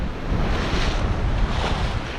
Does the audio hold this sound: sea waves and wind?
yes